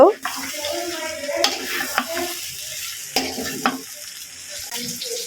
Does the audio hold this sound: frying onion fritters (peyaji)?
yes